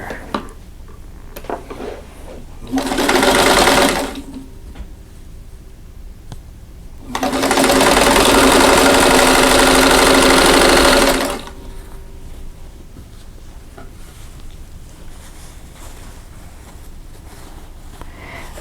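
A sewing machine stitches quilt block pieces for a Martha Washington Star block in two loud, steady bursts of whirring, one short and one longer, with quiet pauses between.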